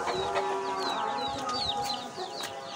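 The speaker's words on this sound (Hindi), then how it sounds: "देखे मुर्गियाँ और हमने ये चूजे भी खोले हुए हैं।" Hens cluck softly while chicks peep in quick, high chirps, a busy close-by chorus over steady background hum.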